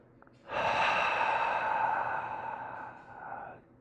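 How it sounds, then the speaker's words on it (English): A long, steady exhale out through the mouth during a standing yoga class, breathy and close, lasting about three seconds before fading, with no talking. "And exhale out the mouth"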